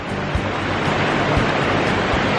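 Waterfall on Spruce Brook in Connecticut, heard as a steady, full rush of falling water with no pauses, loud and close, with no voices.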